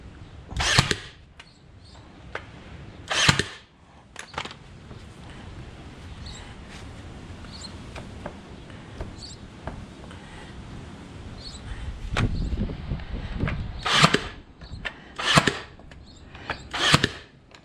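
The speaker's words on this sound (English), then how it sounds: "I'm gonna tack this with some 1¼ inch staples" Staple gun driving 1¼ inch staples into wood while building a small homestead barn, giving several sharp, loud snaps spaced apart, two near the start and a cluster of three or four toward the end, with quiet workshop noise between.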